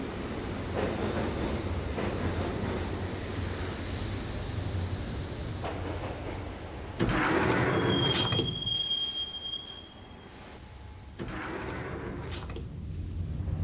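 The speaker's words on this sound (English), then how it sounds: "the train doors had already shut behind me, and I was in for the ride" Subway train ride in the game Max Payne mobile: a continuous rumble of wheels on rails with a long high metallic squeal midway, shifts in the clatter and a surge of noise, fairly loud with no speech.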